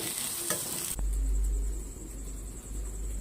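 Mashed potato stirred in a pan over low heat gives a soft, steady scraping and faint sizzle, with a sharp clatter near the start and no voices.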